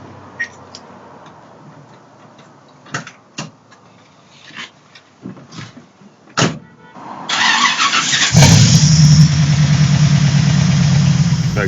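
A Land Rover Series 3 with a V8 engine: a few scattered clicks and knocks come first, then the engine whirs, catches and settles into a loud, close, steady rumble with a rapid throbbing pulse.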